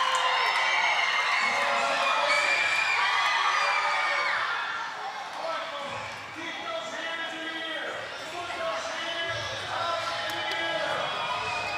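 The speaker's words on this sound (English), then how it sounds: "Soup getting the crowd excited once again." Fans at a Harlem Wizards exhibition basketball game cheer and shout in a loud, steady arena roar that dips briefly midway and then builds again, with an announcer's voice and music mixed in.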